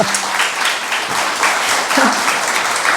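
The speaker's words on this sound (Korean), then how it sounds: "박수 한번 부탁드릴게요." Audience applause fills a book concert hall, a dense, steady wash of clapping from many hands that holds at full strength for the whole stretch with no talk over it.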